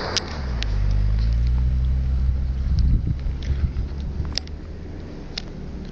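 A front-wheel-drive Daewoo Espero drifting at night, its engine holding a steady low drone that rises and wavers as it slides, heard from a distance with wind noise and occasional sharp ticks.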